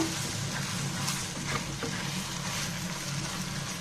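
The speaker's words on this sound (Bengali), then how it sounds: "আমার আলুটা একদম ভাজা ভাজা হয়ে গিয়েছে" Potato pieces with salt and turmeric sizzling steadily in a pan, a constant fairly quiet crackling hiss with occasional soft stirring scrapes and no voices.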